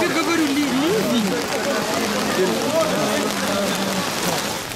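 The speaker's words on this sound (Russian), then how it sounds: "Я тебе говорю, ливень." Heavy rain downpour hissing steadily and loudly throughout, a dense wash of drops on surfaces, with a voice or wavering tones audible faintly underneath.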